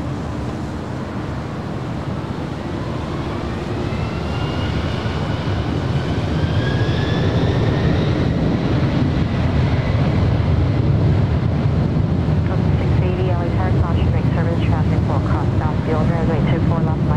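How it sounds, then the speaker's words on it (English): Jet airliner taking off from runway 24 left at Los Angeles International Airport, a loud, steady roar that builds over many seconds with whining tones sweeping upward, under wind noise throughout. "Runway 24 left, clear for takeoff"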